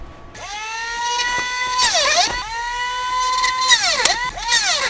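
A power drill whines steadily as it bores holes through a Powell Peralta Mike McGill reissue skateboard deck, the pitch sagging and recovering at several points as the bit bites into the wood, close and loud.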